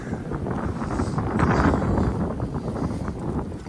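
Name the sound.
wind on a mountain ridge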